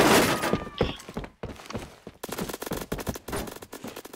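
Gunfire from a gun in the Roblox video game, rapid bursts of loud, sharp shots in quick succession with brief gaps, the volley continuing to the end.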